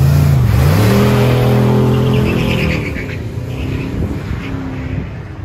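A twin-turbocharged Chevrolet Blazer at a Goodguys autocross event accelerates hard, its engine note rising and shifting as it pulls away, loud at first and then fading slightly into the distance.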